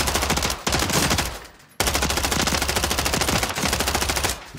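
An assault rifle in Warzone fires loud, sustained automatic bursts with a short pause near the start. The rapid shots continue almost without a break to the end.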